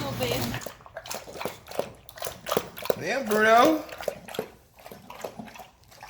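Bruno the dog eagerly laps water from a bowl, producing wet, rhythmic slurps and drips close by as people talk over it.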